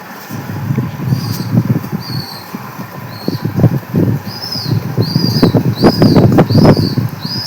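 Bursts of wing flapping from pigeons, repeated in irregular clusters over a steady outdoor background, with brief higher chirps or whistles scattered throughout.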